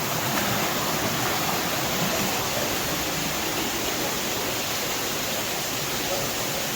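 Water pours steadily down an underground waterfall inside an old mine level, a dense, unbroken rushing roar that fills the space evenly and stays loud and constant throughout.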